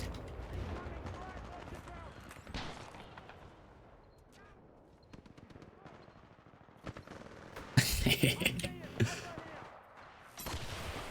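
Video game gunfire crackles in short bursts, swelling into a loud, dense volley near the end while a person talks over the action.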